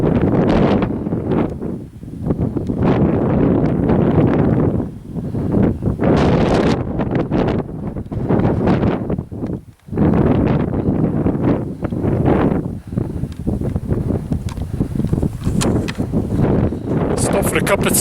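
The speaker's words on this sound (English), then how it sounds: "Breeze has picked up now" Strong, gusty wind roars across an exposed hilltop, buffeting the microphone in loud continuous bursts with a brief lull midway.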